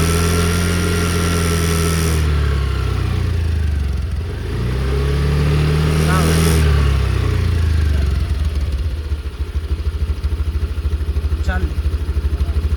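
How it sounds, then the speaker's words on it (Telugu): A Honda Activa 125 scooter engine runs after a kick start with a steady, smooth low hum. The revs dip briefly and then rise again partway through, and a voice is heard over the engine. "వెహికల్ బీటింగ్ కూడా చూడొచ్చు, చాలా స్మూత్గా రిఫైన్డ్గా ఉంటుంది."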